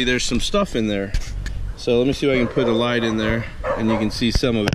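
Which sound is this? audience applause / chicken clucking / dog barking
dog barking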